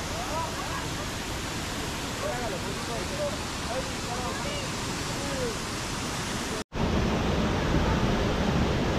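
Kempty Falls in India roars steadily with broad rushing water noise; a brief cut interrupts it before the roar resumes slightly louder.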